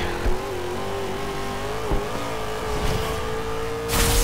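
Race cars in the Forza video game roar through a close race, a sustained engine drone holding steady pitch with small dips, another car rising in at the end with a burst of tire and wind noise.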